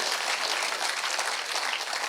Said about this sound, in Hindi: तालियां बजाएगा जरा जोर है यार।